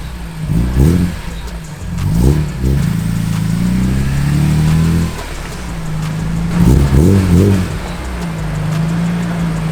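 A 2002 BMW E46 M3 engine revs repeatedly at close range, its raspy exhaust rising and falling in several sharp blips between longer sustained steady-rpm drones.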